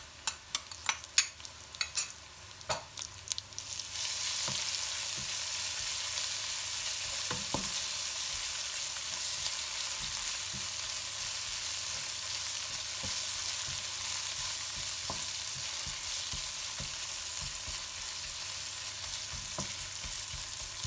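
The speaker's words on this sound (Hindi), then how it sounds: "इसको लहसुन को थोड़ा अच्छी तरह भुना करें" Loud, steady sizzling of ginger-garlic paste frying in a hot pan, preceded by a few clinks and stirring scrapes, with no talking.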